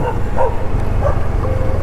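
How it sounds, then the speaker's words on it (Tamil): A dog yaps and barks aggressively at people along a roadside in Perungudi, several sharp close barks over steady traffic and engine noise. "ஒரு நாய் பாருங்க கடிக்க வருது அவங்கள."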